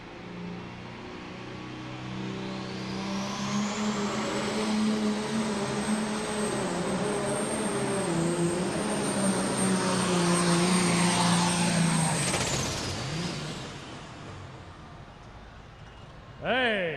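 A 10,200 lb pro stock pulling tractor roars through a pull at a Louisville, Kentucky tractor pulling event, a loud sustained engine drone with a high whine that builds and holds for about ten seconds before cutting off, with crowd ambience around it.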